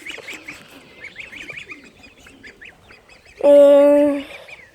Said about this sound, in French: ici, une oie blanche, c'est une femelle